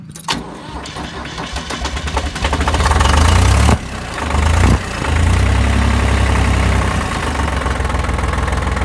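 A tractor engine cranks over on the starter, catches and settles into a loud, steady idle close by, with a brief dip as it fires up and no voices.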